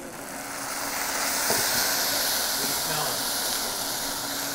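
Beer hitting caramelizing yellow onions in a hot pan sets off a loud, steady hiss that swells slightly and holds throughout, close up and without talking.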